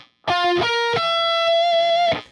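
Distorted electric guitar plays a riff slowly, a few sustained notes sliding up the neck, close and clear with no talking.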